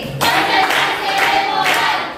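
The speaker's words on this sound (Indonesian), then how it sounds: "Bagus sekali, tepuk tangan" Schoolchildren in a classroom clap their hands in praise, a few quick, loud rhythmic bursts of group clapping close by, rising and pausing in a short patterned sequence.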